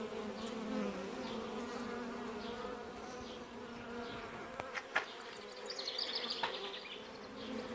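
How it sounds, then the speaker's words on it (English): A bee swarm buzzes around a hive, a dense, continuous hum of many insects close by with individual bees zipping past the mic and a few sharp knocks partway through. "So I'm thinking this is a swarm."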